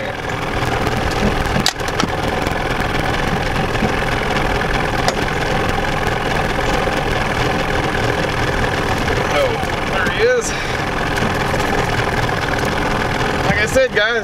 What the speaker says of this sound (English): Shut that motor off for you guys. It's got to be loud. A little two-stroke.